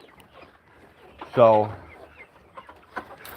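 A single chicken gives a loud, close cluck-squawk inside a farm coop on a rainy day, amid quiet background and brief spoken words.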